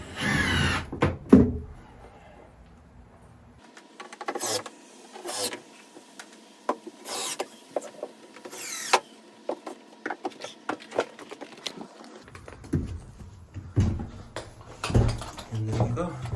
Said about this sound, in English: And those we're going to screw down with the shorter V screws.